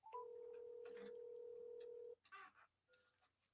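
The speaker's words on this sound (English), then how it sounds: "All right, so I'm calling. I'm going to do it on speaker." A phone call placed on speakerphone during a Sacramento sports radio show: a long steady ringback or dial tone holds for about two seconds, then cuts off, followed by faint clicks and brief noise.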